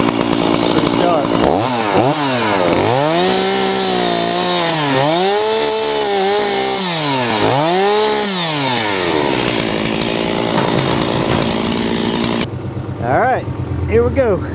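A Stihl MS460 chainsaw with a freshly file-sharpened chain roars close by, its engine revving up and down in repeated surges before dropping back toward idle at the end.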